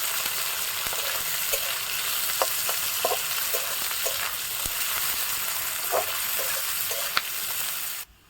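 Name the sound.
chopped onions frying in a pan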